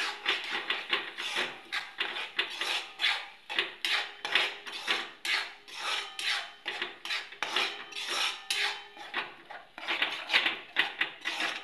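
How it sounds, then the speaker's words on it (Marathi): A spoon scrapes and stirs masala for Kolhapuri mutton curry in a cooking pot, rhythmic repeated rasping strokes close by, steady for the whole stretch with no talking. "हे हलवून घेऊया सगळं आणि शिजवायला ठेवणार थोडा वेळ हा मसाला।"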